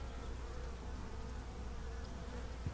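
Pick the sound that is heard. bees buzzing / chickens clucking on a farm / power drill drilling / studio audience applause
bees buzzing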